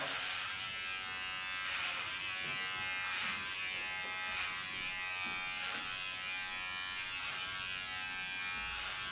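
Electric hair clipper running steadily while cutting a man's short hair on the sides, guided by a comb; a continuous near buzz with brief louder bursts as the blades pass through hair, no talking.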